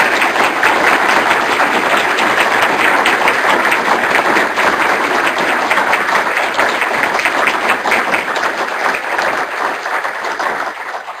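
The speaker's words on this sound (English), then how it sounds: "Could we please have a round of applause for Michael J." An audience applauds steadily at an awards ceremony, dense sustained clapping that stays loud throughout and tapers slightly at the end.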